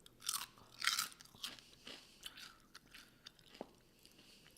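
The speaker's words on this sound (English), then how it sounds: "This is my last chip, so you don't have to hear me crunch anymore." Potato chips crunch up close during a night of online poker, with a few loud, crisp bites followed by quieter chewing and small crackles.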